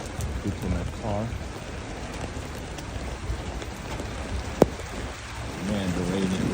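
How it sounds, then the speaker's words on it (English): Rain falls steadily on a city street near an embassy, a constant hiss of drops on pavement with a single sharp knock partway through and faint voices mixed underneath. "the rain is getting stronger"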